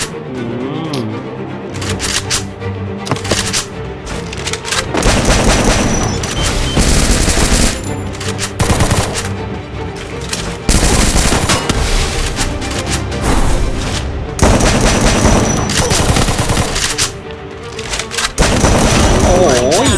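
MAG-7 shotgun fire in the video game Free Fire booms out in rapid, repeated loud blasts, bursts coming one after another throughout with game effects and some talking mixed in.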